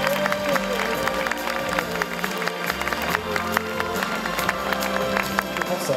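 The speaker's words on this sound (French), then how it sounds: "Mesdames, Messieurs, applaudissements très très forts" Audience applause at the Charles Proust Cup award ceremony in Paris: a steady wash of many hands clapping, with crisp individual claps standing out, continuous and moderately loud throughout, with faint crowd murmur beneath.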